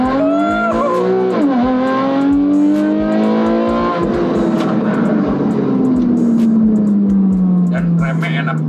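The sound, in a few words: 2012 Porsche Carrera S accelerating hard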